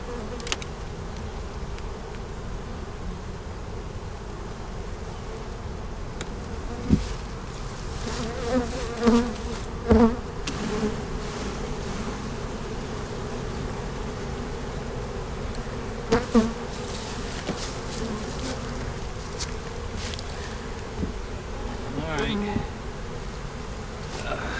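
An old honeybee swarm being moved into a new hive fills the air with a steady, close buzz, and a few brief knocks and handling sounds rise above it.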